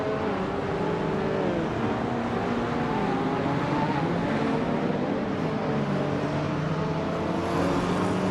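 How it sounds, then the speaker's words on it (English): A 1984 Ferrari 288 GTO engine drones steadily in a racing video game, with overlapping engine tones shifting in pitch as cars run close together. "Naiba is driving a Ferrari 288 GTO from 1984, known for its impressive speed and handling"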